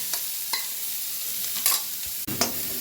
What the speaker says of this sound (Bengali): ঘিয়ের মধ্যে আমি গাজরগুলো গ্রেট করে নিয়েছি, গাজরগুলো দিয়ে দিচ্ছি